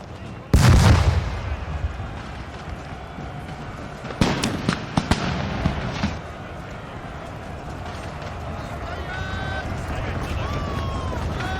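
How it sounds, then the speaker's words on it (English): Cannon and artillery fire in a large Napoleon: Total War 4v4 grand battle, a loud booming blast early followed by a cluster of sharp reports, over a constant roar of battlefield noise. "There's artillery pieces everywhere."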